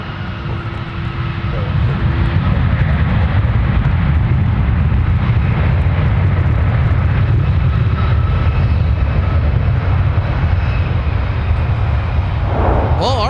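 A Boeing 757-300 jet, formerly a Northwest red tail, at Minneapolis–Saint Paul airport, producing a loud low rumbling engine roar that builds early and holds steady, with voices over it.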